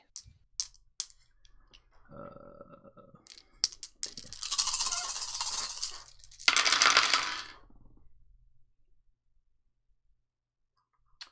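Many small mini dice clatter onto a table, starting with scattered sharp clicks, then two dense rattling bursts of tumbling dice, ending in a few faint ticks and silence.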